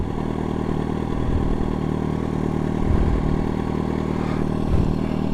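Yamaha FZ1N motorcycle with a Remus exhaust pipe out on a ride, its engine droning loud and steady throughout with slight swells in revs and some mechanical clatter, no voices.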